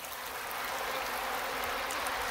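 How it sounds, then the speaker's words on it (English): Water flows and rushes steadily in a continuous broadband wash, like a small stream running nearby. "The fountain becomes a spring of wild water."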